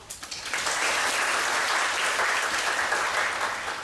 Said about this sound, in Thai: ขอเสียงปรบมือต้อนรับหม่อมหลวงกรกสิวัตรค่ะ